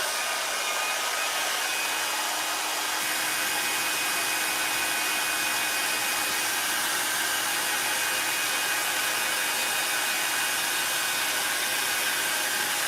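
A hair dryer runs continuously on a balloon, a steady broadband whoosh with a slight shift in tone a few seconds in, then a constant hum, fairly loud and close with no talking.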